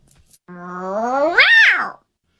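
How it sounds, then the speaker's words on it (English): A cat lets out one long, loud, angry meow close up, starting low, rising in pitch and then falling away before it cuts off. "Then the angry meow, but we only use this one on rare occasions"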